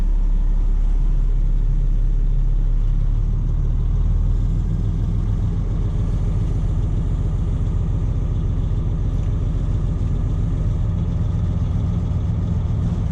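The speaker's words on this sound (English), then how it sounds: "So we're going to raise the bed." A dump truck idles with its air-engaged PTO running while the bed raises, a loud, steady, low diesel rumble with a hydraulic drone, close and continuous, with no talk.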